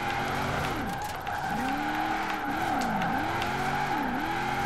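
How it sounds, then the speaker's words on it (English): Car drifting in Forza Horizon 4, the engine droning steadily while repeated tire squeals swoop up and down in waves, loud and continuous with no talk over it. "you see how easy the car keeps sliding"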